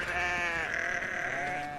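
A sheep bleats loudly and close by on a UK climbing hillside, one long wavering call filling the moment with no talk over it.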